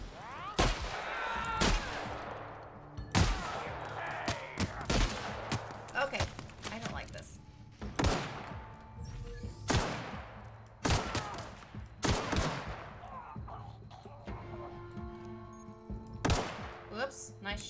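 Gunfire rings out in The Outer Worlds: sharp, loud shots from a weapon with heavy kickback, fired singly and in short bursts with pauses between, while a player talks throughout.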